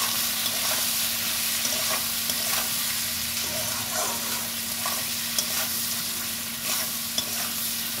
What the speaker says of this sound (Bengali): এবার কুদলিগুলোকে সব ভালো করে ভেজে নেব।